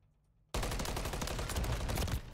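Rapid gunfire in the multiplayer shooter Call of Duty, a Control match in competitive league play: after half a second of near silence a dense, loud burst of continuous shots erupts and keeps going to the end.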